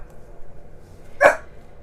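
A single short dog bark cuts through a quiet indoor room, one sharp, fairly close yelp and nothing else around it.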